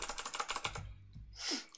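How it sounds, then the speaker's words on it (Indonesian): Rapid typing on a computer keyboard during a drawing stream, a quick run of close, crisp key clicks followed by a few heavier taps and a rustle, with no speech. "Nikmatin aja suara keyboard gua."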